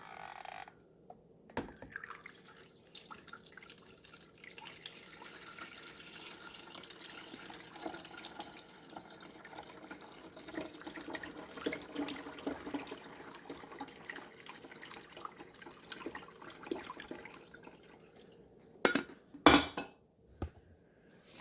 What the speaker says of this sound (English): Let's see how the water pours.